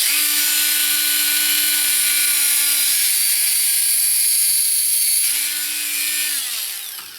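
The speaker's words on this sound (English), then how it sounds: "So I'm just going to leave about 1/4 inch back from the tip of the ram there, and I'm going to cut this clean off." A cutoff wheel slices through the resin ram tip of a Disney Nautilus submarine model with a steady, loud, high-pitched whine that holds for several seconds, dips briefly, then winds down at the end.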